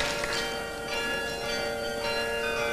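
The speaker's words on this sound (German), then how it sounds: "Glockenspiel oder Drehorgeln, das ist Holland." Carillon or glockenspiel bells ring a bright chiming melody as the intro to the Netherlands song at the 1984 Eurovision Song Contest in Luxembourg, sustained tones overlapping steadily with no talking.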